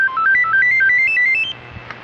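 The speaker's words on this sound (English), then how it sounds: "apparently somebody called. Listen to it. It's buzzing all over the table here." A cell phone on a table rings loudly and close, a bright rising-and-falling electronic ringtone melody lasting about a second and a half before cutting off, no talking over it.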